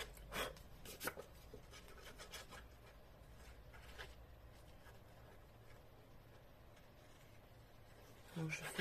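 A folded paper card for a twist card craft is pressed flat and rubbed along its edges by hand: soft, close brushing and scuffing strokes, with a few sharper scrapes early on, then a quiet, steady rubbing.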